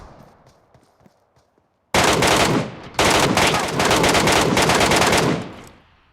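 Rapid automatic gunfire in a video game, a sustained burst emptying a magazine at an enemy, loud and continuous with a brief break, after a quiet start.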